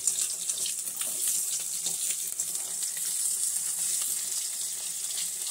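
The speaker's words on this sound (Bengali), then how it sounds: "এই মাছগুলো ভাজা হচ্ছে" A steady, hissing sizzle of small fish frying in oil runs throughout, fairly soft and even, with occasional faint pops and no talking.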